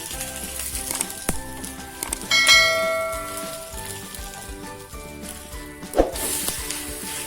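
A sweet wheat-flour pudla cooks in ghee on a griddle, sizzling softly beneath occasional spatula scrapes and clinks, with ringing metallic tones in the background and no talking.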